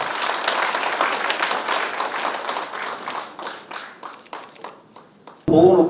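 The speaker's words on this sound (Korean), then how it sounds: "표창장을 수여하신 분들께 큰 박수 한번 부탁드리겠습니다." Dense applause from a crowd at a Korean Democratic Party provincial gathering honors award citation recipients, then gradually thins and fades before a voice starts speaking at the end.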